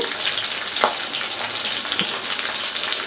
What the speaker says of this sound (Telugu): ఆయిల్ వేడైన తర్వాత ఒక పది పచ్చిమిరపకాయలు తీసుకుని మధ్యలో ఘాట్లు పెట్టుకుని వేసుకోవాలండి